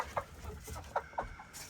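Chickens cluck in a few short, separate bursts close by, over a low background rumble.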